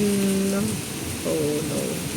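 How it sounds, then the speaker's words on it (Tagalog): Heavy rain pours down in Hong Kong as a steady broadband hiss, with someone speaking over it in short phrases. "heavy rain. Rain, go away."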